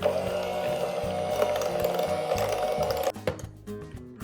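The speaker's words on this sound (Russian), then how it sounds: "И все это хорошо взбиваю на маленькой скорости." An electric mixer whips heavy cream at low speed for a coconut Raffaello cake, giving a steady close motor whir that stops near the end. A few soft clinks follow, and no one speaks.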